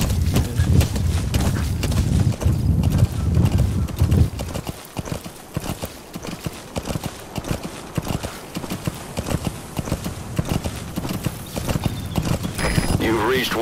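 Galloping horse hooves in Metal Gear Solid V, a rapid rhythmic clip-clop that runs loud and steady, then continues more sparsely, with speech and game sounds over it.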